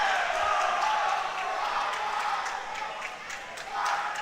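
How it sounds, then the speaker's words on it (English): Spectators cheer in the background at a boys' high school swim and dive meet between MGSH and Champlin Park, a steady, distant roar of crowd noise that swells slightly toward the end. "Can hear the cheering getting louder in the background."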